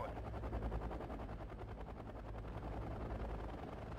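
Anti-aircraft gunfire in the war strategy game Wargame: Red Dragon, a dense, continuous rattle of rapid automatic fire with a low rumble underneath, steady and loud throughout without pauses.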